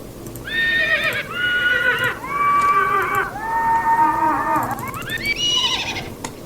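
A horse whinnies loudly, a long series of high, shaky neighs that slide downward, then a final rising squeal, heard clearly on its own.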